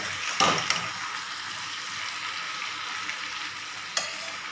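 Chicken curry meat with its skin on frying in a pan, stirred with a couple of sharp scraping clatters against the pan over a soft continuous sizzle, close and without talk.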